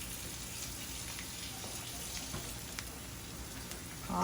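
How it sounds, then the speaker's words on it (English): Vegetables frying in a pan for chicken lo mein make a faint, continuous hissing sizzle, soft and steady, with a small clatter near the end. "so we're gonna fry this a little bit"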